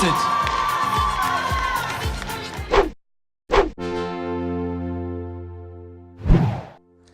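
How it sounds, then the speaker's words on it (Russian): Audience applause and cheering for a contestant at a student university pageant, a dense crowd roar that cuts off abruptly, followed by a brief burst and then sustained music. "Аплодисменти учаснику."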